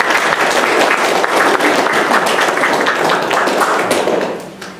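A loud, close crowd at a talk on printing history claps warmly for the first female editor in Vestmannaeyjar, a thick steady roar of hands that tapers off near the end.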